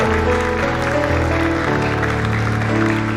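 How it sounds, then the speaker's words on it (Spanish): A church congregation applauds loudly and continuously, the clapping blended with sustained music and a full, busy room sound throughout. "Fuerte ese aplauso para el Señor, fuerte."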